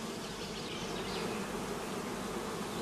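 Honey bees at a hive give off a dense, steady buzzing drone, loud and unbroken throughout, with no voices.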